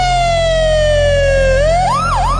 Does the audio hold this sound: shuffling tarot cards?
no